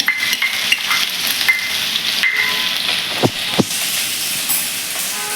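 Ginger and garlic frying in hot oil in a wok for cabbage Manchurian, a steady loud sizzle with a couple of sharp clinks of a spoon near the end.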